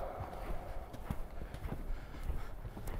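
Horse hooves clip-clop steadily on an arena surface during a riding lesson, a close rhythmic series of dull thuds repeating throughout with a faint background hum.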